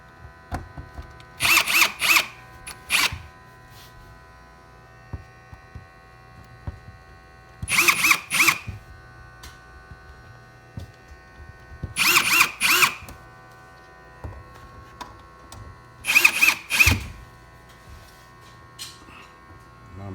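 A power drill drives screws to tighten plastic blind brackets, with four separate bursts of whirring spaced a few seconds apart, each a cluster of quick pulses, close and loud over a quiet room.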